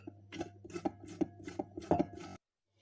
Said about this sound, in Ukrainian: Яйця натираю на терку.